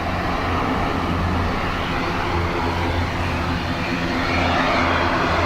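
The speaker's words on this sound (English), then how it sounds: "Sounds like a go round on the far side. Or just loud reverse" Loud, continuous jet roar of an aircraft at Dublin Airport, either a go-around or heavy reverse thrust on the far runway, a broad steady rumble holding for several seconds with low engine hum beneath, distant but powerful.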